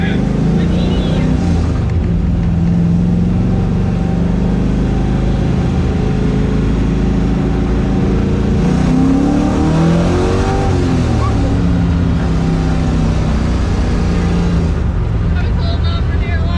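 A drift race car drives and revs hard, its loud engine roaring steadily throughout with rising and falling pitch sweeps around the middle, while voices come through faintly underneath.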